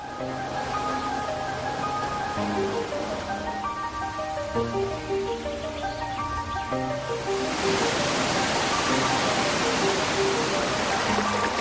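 Waterfall cascades beside erosion-formed caves: soft music plays first, then a broad rushing roar of falling water swells up and dominates the final seconds.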